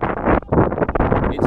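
Wind buffeting the microphone while cycling on a rough, newly graveled road with loose stones, a steady loud roar with gusty surges and a brief dip midway.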